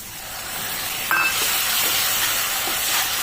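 Tomato paste hits a pan of frying jackfruit and potatoes, and a loud, steady sizzling hiss swells and holds for several seconds.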